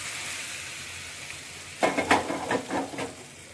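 Hot tempering with curry leaves poured into a mango and carrot pickle sizzles up suddenly, a loud crackling burst that pops and fizzes in several quick waves after a quiet start.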